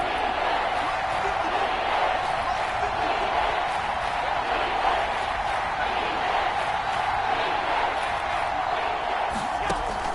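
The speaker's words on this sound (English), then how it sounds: "The crowd getting into it as we come up on a big third down." A stadium crowd roars steadily in an American football video game ahead of a big third down, a loud, continuous wash of cheering noise throughout.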